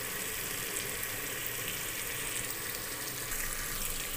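Water is poured into a pan of sizzling curry masala frying in oil for an almond, amla and poppy seed curry, giving a steady, close hiss and rush of liquid that continues without pause and without talk.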